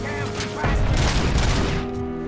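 Grenade explosions in the video game Robocop: Rogue City, a burst of loud booming blasts and crackling debris rising over steady in-game background tones, then fading.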